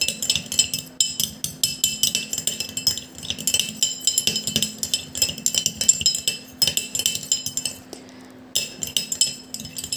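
A utensil stirs and clinks against a container while hair oil is mixed with other ingredients into a thick jelly, giving a steady run of light, close scraping and tapping clinks that continues with only brief pauses.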